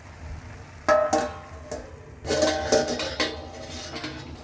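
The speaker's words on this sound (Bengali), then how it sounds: "এখন আমরা একটু নাড়িয়ে চাড়িয়ে মশলার সাথে ভালোভাবে এটা মিক্স করে নিই" A utensil scrapes and clinks in a cooking pan as cabbage and spices are stirred together for a soybean vegetable curry, with uneven metallic scraping bursts close by and no talk.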